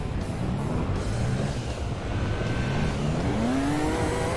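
A race car in Gran Turismo 7 spins out, its engine droning steadily while a rising, swooping tire squeal sweeps upward near the end, loud and continuous with no talking.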